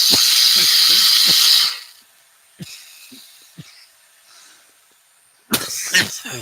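A run of harsh, rough coughs close up over a hissing background, followed by a few quieter scattered bursts and then another loud coughing fit.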